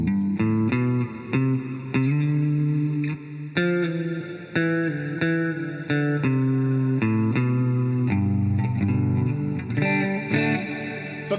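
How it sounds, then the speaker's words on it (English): Electric guitar through a plugin that adds delay, chorus and reverb, a steady, loud run of picked notes and chords with shimmering, echoing tails, playing alone without talk. "this actually kind of has the ability to do a bit of a delay to it, a bit of a chorus, and reverb all together"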